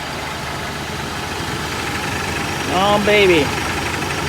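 A 1969 Chrysler 300 V8 idles with a steady low rumble while its air conditioning compressor clutch is engaged, and someone speaks briefly over the engine noise.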